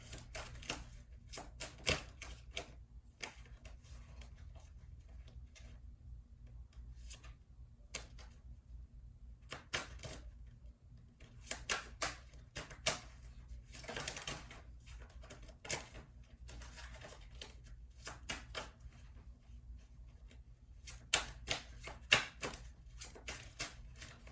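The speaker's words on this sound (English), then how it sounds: "I'm going to shuffle just a few more times here" Tarot cards are shuffled by hand, quiet crisp riffles and snapping flicks in irregular bursts, close by, with soft gaps between them.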